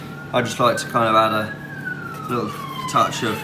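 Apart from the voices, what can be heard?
emergency vehicle siren outside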